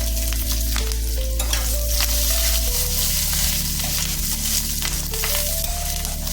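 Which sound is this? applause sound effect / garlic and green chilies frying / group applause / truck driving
garlic and green chilies frying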